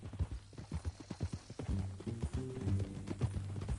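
Horse hooves clip-clopping in Red Dead Redemption 2, a brisk rhythmic series of close hoof falls, joined partway through by a low droning musical tone.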